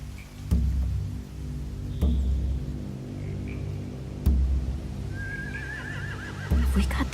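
A horse whinnies clearly over a low ambient hum in a video game, with heavy thuds landing every couple of seconds and quieter snorts and movement in between.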